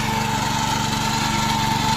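A fairly large tractor puddling a flooded, muddy paddy field runs with a steady, close engine drone carrying a fast, even low throb, unbroken and without voices.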